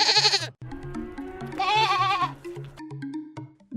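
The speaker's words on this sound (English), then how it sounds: "Goat," A goat bleats in a few quavering cries, close and loud over a light background melody.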